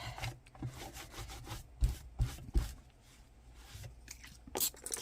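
A cloth rubs and wipes blue ink off a silicone craft mat, a close series of soft scrubbing swishes and brushing strokes with occasional heavier thumps, fairly quiet and without speech.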